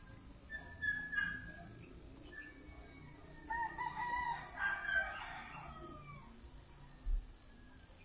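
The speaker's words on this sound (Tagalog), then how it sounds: "Manok." A rooster crows at a distance over steady high-pitched insect or background hiss, faint and outdoors in the Philippines.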